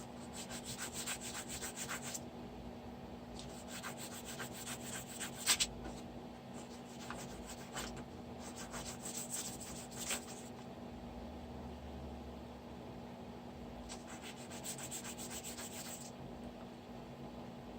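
Deburring and polishing a Gamo Accu airgun trigger produces steady, close scratchy rubbing and sanding strokes in bursts, with a faint constant hum underneath.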